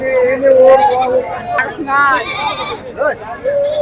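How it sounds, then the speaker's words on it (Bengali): Goats bleat repeatedly at a livestock market selling goats and sheep, several wavering cries close by, mixed with people talking and background crowd chatter. "এটি মা ছাগল দেখছেন একদম সুন্দর"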